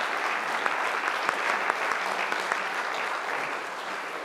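An audience applauds steadily after a lecture on the Imitation of Christ, dense continuous clapping filling the room throughout without pause.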